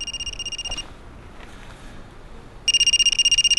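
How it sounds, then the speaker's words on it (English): A telephone rings with rapid electronic trilling pulses, loud and close. One burst sounds, then a short quiet pause, then a second burst. "Saved by the phone."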